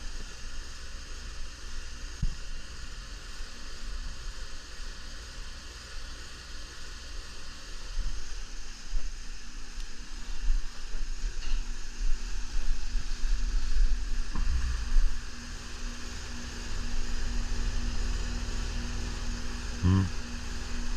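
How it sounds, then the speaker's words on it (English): An air-conditioning compressor running empty hums steadily and evenly at a constant pitch, with a broad background hiss and a few faint clicks and knocks. No one speaks. "you can actually hear how the compressor's running. You can kind of hear it running empty."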